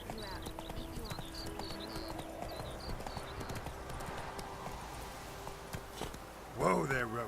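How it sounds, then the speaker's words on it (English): Hooves of Roach, the horse in The Witcher 3: Wild Hunt, clip-clopping at a steady walk beneath birdsong and soft music, ending as a voice speaks over the slowing steps. "Whoa there, Roach."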